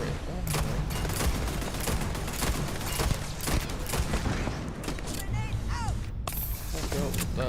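Turret gunfire in the Starfield video game comes as a dense, continuous volley of rapid shots and impacts running throughout, with short mechanical whirs and chirps mixed in.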